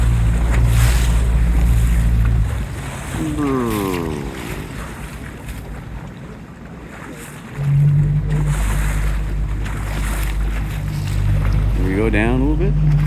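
A boat riding big, widely spaced rolling ocean swells: engine rumble and hull rush with wind buffeting the microphone, dropping away for a few seconds as the boat slides into a trough, then surging back.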